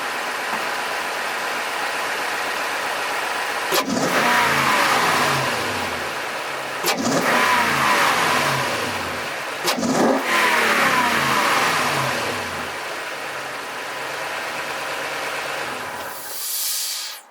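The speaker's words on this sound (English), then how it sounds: "so you guys can actually hear the induction noise" A 2007–2021 Toyota Tundra fitted with a cold air intake revs three times in sharp bursts, each rising roar and hissing induction whoosh settling back to a steady idle, loud and close with no talking.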